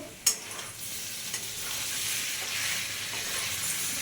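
Papaya and potato pieces fry in a pan, a steady close sizzle with faint stirring scrapes and one sharp clink near the start, no voices.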